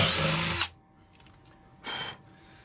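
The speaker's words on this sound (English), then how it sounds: "I'm going to make a hole down through the middle of our board here to mount." Power drill boring a hole through the middle of a wooden board for mounting a junction box, a loud close burst of about half a second, then a quieter second short whir after a pause.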